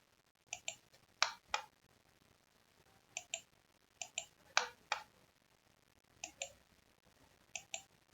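Mouse clicks while working in AutoCAD, crisp close clicks coming singly and in quick pairs at an uneven pace, quiet and with no talk.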